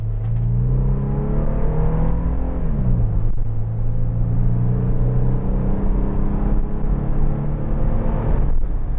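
A Toyota 4Runner's 245-horsepower V6 accelerates along a straight road, its engine note rising steadily in pitch through the gears, dipping at a shift then climbing again, loud, droning and close inside the cabin.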